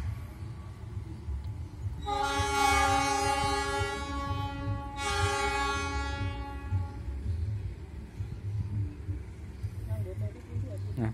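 A locomotive rumbles nearby on an elevated airport rail line and sounds two long horn blasts in a row, then its engine keeps droning on after the horn stops.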